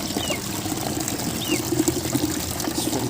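Water pours steadily while Sonic toys are being cleaned, a continuous close splashing trickle with some brighter bubbling bursts midway, heard alone without talk.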